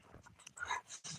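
A dog whimpering while playing in snow outdoors, a few short faint high whines and yelps in quick succession, close by and without talk.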